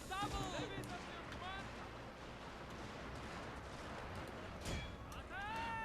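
Line infantry fire musket volleys in Total War: Shogun 2 – Fall of the Samurai, producing a few sharp distant cracks under steady game ambience while someone talks over them.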